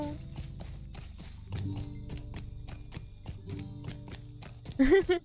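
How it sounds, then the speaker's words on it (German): Horse hooves clop at a walk in Lord of the Rings Online, a steady run of evenly spaced footfalls under game music, followed by a short loud burst near the end. "da könnte nicht mein Pferd so schnell rennen"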